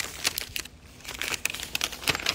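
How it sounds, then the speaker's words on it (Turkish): Plastic barrier tape pulled out and crinkled at a hazardous roadside, giving a run of close, papery crackles and rustles without pause. "Bu bantı çekeceğim buraya"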